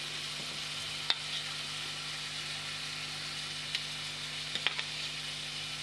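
Potatoes sizzle steadily in a pan while being stirred for a Bengali-style cucumber curry, with a low continuous fry and a few sharp scrapes and clinks of the spoon against the pan.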